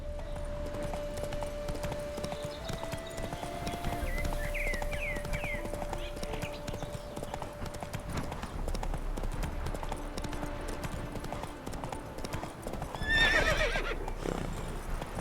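Horse hooves clip-clopping at a steady walk with a neigh near the end, from The Witcher 3 video game, under a low ambient game soundscape.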